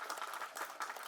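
Audience clapping at a Tamil film audio launch event: a short, steady burst of applause from a crowd, moderately faint and continuous, with no voices over it.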